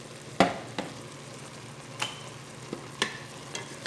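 Chicken sotanghon guisado with soy sauce being stirred in a pan: sparse, quiet scraping strokes spaced a second or so apart over a faint, steady sizzle.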